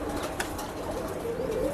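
Pet pigeons of a bred loft line cooing softly nearby with a brief flutter of wings, close and fairly clear over faint room noise.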